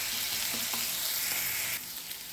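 Curry leaves and ginger paste hiss and sizzle in hot oil in a pan while cooking ridge gourd palya, a steady, close crackling that eases slightly near the end.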